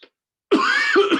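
A single harsh, rough cough from an ill adult, close and loud, after a brief faint sound and near silence.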